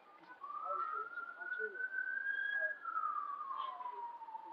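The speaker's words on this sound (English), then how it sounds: "If those sirens are coming here" A single police siren wails outside on a city block during a sheriff's standoff, rising and then slowly falling in pitch at middling distance, with faint street voices and background noise underneath.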